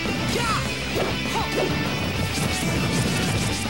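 Rapid hits, smashes and thwacks from a Super Smash Bros singles match with Mario or Roy against Link, dense overlapping impact effects with a few whooshes over steady game background noise.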